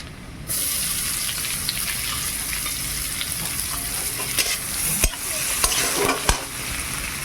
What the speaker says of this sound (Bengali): এইবার পেঁয়াজ কুচানোটা দেবো